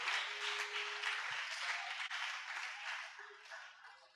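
A church congregation at a New Year's crossing-night service for 2025 bursts into sustained applause and acclamations, a dense, steady wash of clapping and cheering that holds for several seconds without easing.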